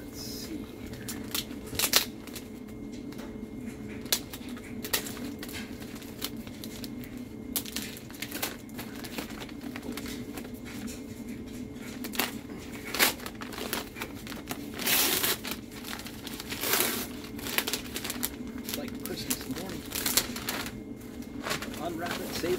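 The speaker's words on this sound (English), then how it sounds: "Unwrap it, save the paper." Gift paper being torn and crinkled off a box, with repeated sharp rips and rustles over steady room noise while people talk.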